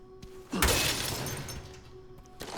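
A loud glass shatter bursts out, followed by a lingering tinkle and scatter of shards, in the survival horror game Resident Evil Requiem, with a faint steady hum underneath and a smaller knock at the end.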